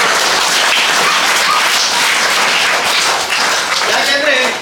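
An audience at a government primary school event applauds, a loud, sustained wash of many hands clapping that fills the whole stretch at close range.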